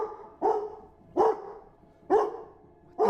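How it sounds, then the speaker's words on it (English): A dog barks loudly in four sharp, evenly spaced barks, close by and alone against a quiet background. "my dog started barking loudly"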